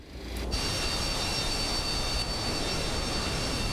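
The jet engines of a Boeing 727 in Microsoft Flight Simulator 2024 spool up for the takeoff roll, quickly swelling into a loud, steady roar with a high whine that holds to the end.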